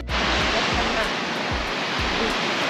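Sea waves wash onto the shore in a loud, steady roar of surf, with low thumps from wind buffeting the microphone and no clear talking.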